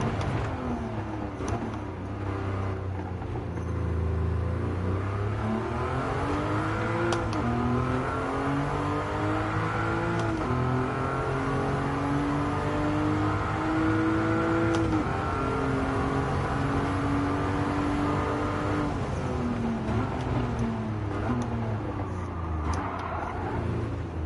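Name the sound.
car engine driving in the video game Gran Turismo 7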